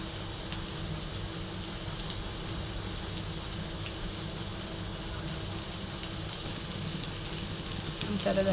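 Sliced bitter gourd (karela) fries in a pan, giving a steady, even sizzle with a soft crackle that carries on without a break, close up and moderately quiet, with a faint stir near the end.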